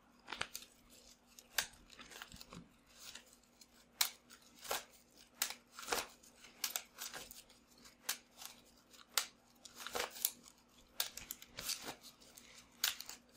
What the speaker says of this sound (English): I think that's a shuffle.